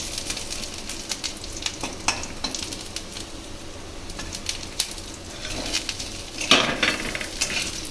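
Fried chicken pieces sizzle and hiss as they are stirred in a pan with curry leaves for South Indian dry chicken 65, with scraping and metallic clinks of a utensil against the pan and a louder burst of sizzling near the end.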